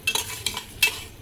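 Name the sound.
spice paste being sautéed with a little water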